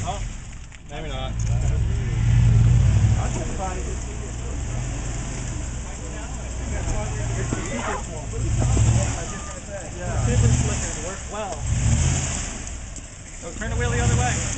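A Range Rover Sport stuck in place is rocked back and forth, its engine surging and easing in repeated swells of revving, while people talk over the sound.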